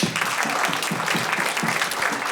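Applause from a game-show studio audience, a dense steady wash of many hands clapping at close range that holds fairly loud throughout the short stretch.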